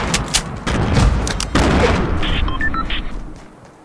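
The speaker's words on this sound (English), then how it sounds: "A grenade surprise." A grenade goes off in Fortnite Battle Royale, a sharp booming blast followed by a second burst and scattered pops fading out, close and loud with no talking.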